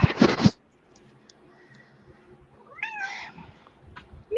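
A house cat gives a distinct rising-and-falling meow at mid-distance, preceded by a brief sharp scratchy burst and followed by faint background rustling in an otherwise quiet room.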